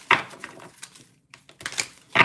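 Crisp bursts of cards riffling and snapping together, a few quick shuffles with short pauses between them, close by.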